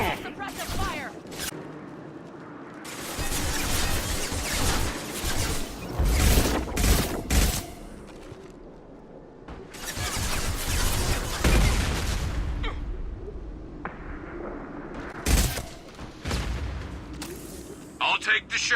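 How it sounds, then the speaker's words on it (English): Squad suppressive gunfire in a Mass Effect 2 firefight, repeated bursts of shots and booming impacts rolling through the scene, loud and busy with voices in the mix. "Protocol 4, suppressive fire!"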